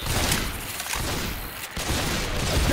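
Rapid gunfire bursts from Left 4 Dead 2 zombie-survival gameplay in the Dark Carnival highway chapter, dense and continuous across the whole moment with no spoken words over it.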